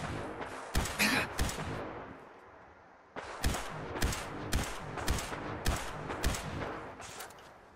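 Enemy gunfire in the Fallout 4 video game: a dense burst of shots, a brief lull near the midpoint, then a steady run of sharp, evenly spaced single shots, loud and close, with no talk.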